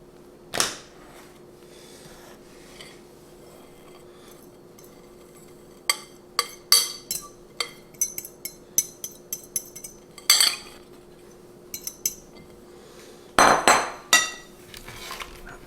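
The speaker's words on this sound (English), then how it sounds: "we're going to combine our wet ingredients, our dry ingredients with our wet ingredients" Dry and wet cookie dough ingredients are combined in a bowl, heard as scattered clinks and taps of a utensil against the bowl, sparse at first and then coming in irregular clusters, with no voices.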